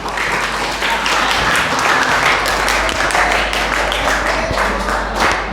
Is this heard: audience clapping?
yes